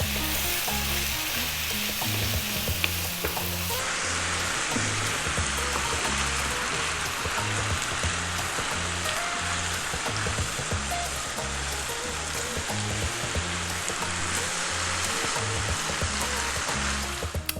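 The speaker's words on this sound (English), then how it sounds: "Let's get some of that sauce all over that pasta." Fusilli is stirred through a creamy blue cheese and sausage sauce in a hot pan, making a continuous bubbling sizzle with steady rhythmic stirring, close and uninterrupted by voices.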